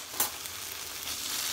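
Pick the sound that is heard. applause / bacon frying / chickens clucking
bacon frying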